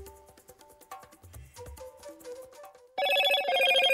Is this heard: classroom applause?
no